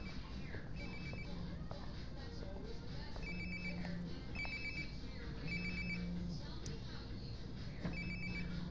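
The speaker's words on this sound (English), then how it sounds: "Sounds like my phone is definitely nearby." A phone ringing in the video game Life is Strange: Before the Storm, a repeating electronic ring in short bursts over steady game ambience and low background hum.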